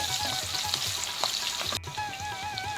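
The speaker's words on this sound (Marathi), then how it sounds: "फोडणीमध्ये ठेचलेल्या लसणाच्या पाकळ्या आणि हिरवी मिरची घालूया आणि ही फोडणी आता छान परतून घेऊया" Crushed garlic cloves and green chillies sizzle in hot oil as a tempering for a fenugreek vegetable dish, a steady, close crackling fry with occasional stirring and no talk.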